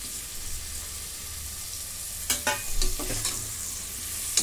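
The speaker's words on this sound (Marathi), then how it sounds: "आता टोमॅटो टाकून घेते" Tomato fries with browned onion for masala rice, a steady close sizzle broken midway by a run of quick scraping stirs.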